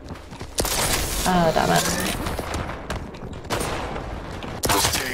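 Weapon fire in the arena shooter Quake Champions, several loud blasts spaced across the moment, with a player speaking between and over the shots.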